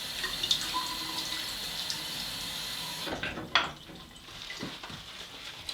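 Tap water running into a sink while someone wets their face to work up a shaving lather, a steady close hiss that shifts to splashing and dripping as hands move through the stream.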